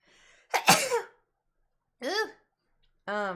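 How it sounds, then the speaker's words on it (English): A single sharp sneeze bursts out close up, followed by a couple of short vocal sounds after a pause. "I gotta sneeze."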